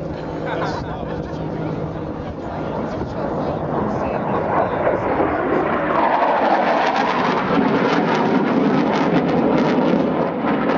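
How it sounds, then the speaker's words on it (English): An F-18 Hornet jet sweeps in low and fast at a Marine Corps air-ground task force demonstration at Joint Base McGuire-Dix-Lakehurst, a steady, building roar that swells toward the end beneath crowd chatter and an announcer talking. "Coming in from your left, low and fast is your F-18."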